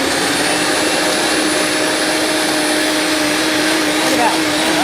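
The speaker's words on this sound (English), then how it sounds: "I'm gonna turn my Vitamix up a little bit" A Vitamix blender runs steadily at high speed, whirring loudly as it purees chimichurri sauce, a continuous dense roar with no break for the whole stretch.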